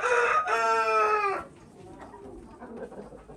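A rooster crows loudly and close in a single long cock-a-doodle-doo, one of a small flock of five hens and a cockerel, followed by quieter clucking and soft farmyard rustle.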